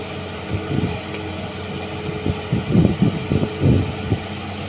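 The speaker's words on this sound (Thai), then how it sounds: "เครื่องยนต์อีซูซุนะครับ" A Hitachi ZX200-5G excavator with a 168-horsepower Isuzu engine digs a pond in a rubber plantation, its engine rumbling steadily with rhythmic low surges as the boom works, close and fairly loud, with no talking.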